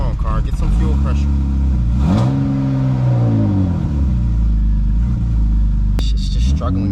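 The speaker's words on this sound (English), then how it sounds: "It's just struggling to idle really badly." A BMW E36 engine rumbles unevenly at idle, its pitch sagging and surging as it struggles, with a voice talking over it at times.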